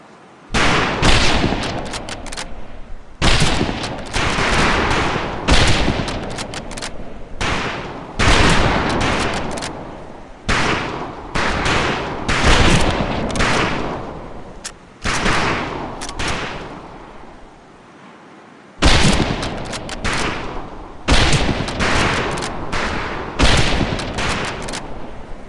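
Rifles fire on a shooting range in the Medal of Honor video game: loud, rapid volleys of overlapping shots in repeated bursts with short pauses between them, no voices heard.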